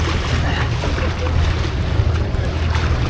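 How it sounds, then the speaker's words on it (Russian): Catamaran motoring out of the marina at Göcek, with a steady low engine rumble under broadband wind and water noise, continuous and fairly close. "Это катамаран. Выходим из Гёчек в Марина."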